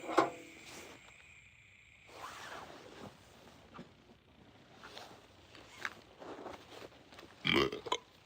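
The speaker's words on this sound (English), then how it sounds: "Burping is a sign of indigestion." Faint burps recur among soft rustles and small scattered noises in a quiet room, with one louder burst near the end.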